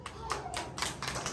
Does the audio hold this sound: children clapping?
yes